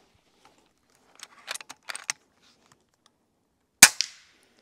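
An FX Impact M3 air rifle fires once, a sharp, crisp crack after a handful of quiet mechanical clicks and rattles from handling the gun, with no talk.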